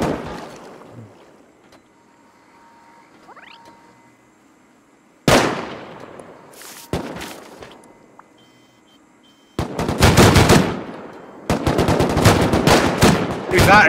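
Bursts of gunfire from a raid defense in a video game, loud clustered shots and rapid volleys that grow denser toward the end after quieter stretches.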